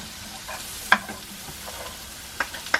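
Sliced red onion fries in a pan while preparing steak in peppercorn sauce, a constant close sizzle broken by a few sharp utensil clicks and stirring scrapes, no one speaking.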